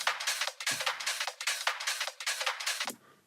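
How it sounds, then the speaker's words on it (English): Unequalized drum loop with bright, harsh top end, rapid repeated hits in a steady groove for about three seconds, loud and close, then stopping. "this loop without this EQ sounds like this"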